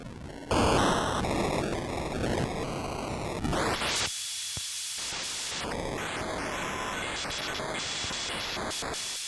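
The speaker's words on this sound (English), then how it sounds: "So now we're starting to get some real glitchy sounds happening." Harsh digital glitch noise from a lo-fi noise and effects app stutters and jumps between buzzy tones and bursts of static, briefly cutting out before resuming the chaotic, choppy texture.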